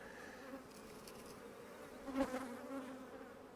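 Honey bees buzzing around a beehive, a soft steady drone with a brief louder swell as one passes close.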